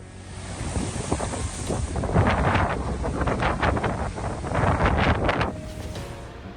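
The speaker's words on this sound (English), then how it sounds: "Strong wind and precipitation were observed in Odessa and Mykolaiv regions." Strong gusty wind in Odessa, Ukraine, during bad weather with precipitation, roaring and buffeting the microphone in loud, continuous surges that swell and ease for several seconds.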